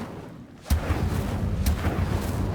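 Incendio fire spell cast in the Hogwarts Legacy video game: a sudden booming burst followed by a sustained, roaring rumble with a second thump partway through, loud and without talk.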